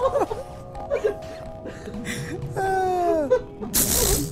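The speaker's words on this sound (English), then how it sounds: "feel like I gotta blow my nose again" Someone blows their nose in a few short honks and snorts, mixed with breathy laughter and a squeaky, whining exhale, close to the mic.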